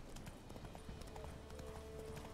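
Steady clip-clop of a horse's hooves at a trot in The Witcher 3, close and continuous over an ambient game backdrop, with a faint hint of a whinny.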